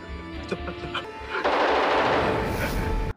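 A burst of loud, harsh gunfire erupts midway, following a few sharp tapping impacts, and continues as dense noise until an abrupt stop.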